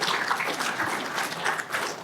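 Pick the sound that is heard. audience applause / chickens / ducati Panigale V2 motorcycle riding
audience applause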